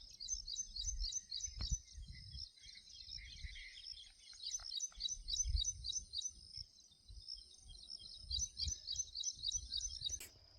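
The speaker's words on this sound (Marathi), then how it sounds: "पक्ष्यांचा आवाज ऐका" Birds sing outdoors in a natural setting, rapid high chirping trills repeating steadily through the scene, faint and somewhat distant, over soft low rumbling background noise.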